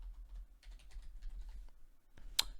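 Fingers type on a computer keyboard, a close, quiet run of irregular key clicks followed by a single sharper tap.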